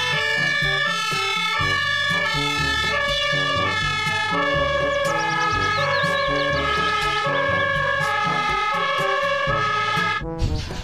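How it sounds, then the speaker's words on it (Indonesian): A toy fire truck blares a loud electronic siren melody of repeating tones, running continuously for about ten seconds before cutting off abruptly, with no talking. "Yang ini ada mobil pemadam kebakaran."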